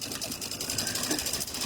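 A sewing machine stitches embroidered wording for a Halloween spider coaster, a continuous close mechanical hum with a fast regular pulsing rhythm that runs throughout with no talk.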